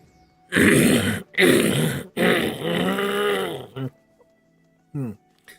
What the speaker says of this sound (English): Clearing my throat so I can actually, narrate this thing.